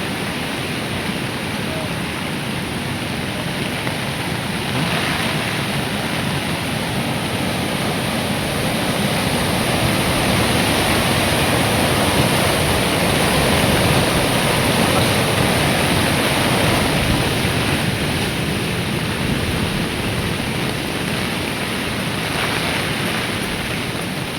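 A swollen river rushes during a typhoon, a steady, loud broadband roar of churning water that runs continuously with little change in level, wind and surf-like noise blending into one dense wash.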